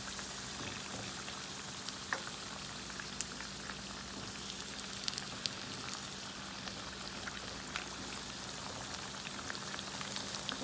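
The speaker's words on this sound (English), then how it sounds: "So I'm just gonna fry these up until I get them to the golden brown that I want" Homemade egg rolls fry in shallow grease with a steady, close crackling sizzle and scattered sharper pops, continuous and alone throughout.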